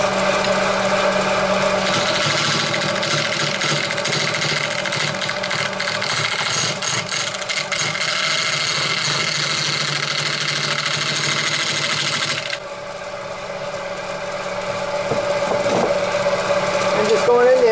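An Ipe segmented bowl spins on a wood lathe while a gouge cuts into it: a steady humming motor runs throughout, and a harsh, scraping cutting noise rises over it for about ten seconds before cutting out, leaving the hum alone.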